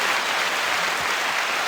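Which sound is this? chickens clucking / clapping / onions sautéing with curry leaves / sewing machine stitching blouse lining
clapping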